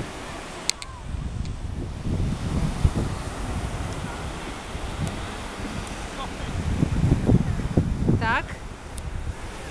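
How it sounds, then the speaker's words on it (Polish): Wind buffeting the microphone on a beach at Weymouth, with a rough steady rush and possible surf beneath, while people talk and shout in the background. "Ja wam z grubsza pokażę, jak wygląda tutaj plaża."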